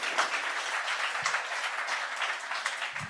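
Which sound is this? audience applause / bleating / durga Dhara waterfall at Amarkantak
audience applause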